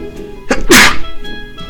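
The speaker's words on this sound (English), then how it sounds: "Here comes another sneeze." A single loud, sharp sneeze bursts out after a short gasping intake of breath, close up, then quiet background noise.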